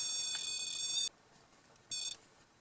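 Electronic device emitting loud, high-pitched beeping in two bursts, a long tone of about a second followed by a shorter one after a pause, close and clear with no talk over it.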